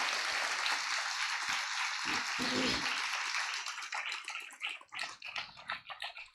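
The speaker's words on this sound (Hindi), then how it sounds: "इस सुनहरे पर्व का आप सभी लोग तालियों की तेज गड़गड़ाहट के साथ सम्मान करेंगे।" Assembly applause at a Jain Dashlakshan festival gathering in an ashram during a nun's discourse; thick clapping for about three seconds, then thinning into scattered claps as a voice begins speaking.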